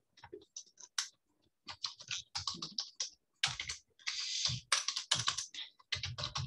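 Code being typed on a computer keyboard: bursts of rapid, close key clicks in uneven runs with brief pauses, loud and alone without speech.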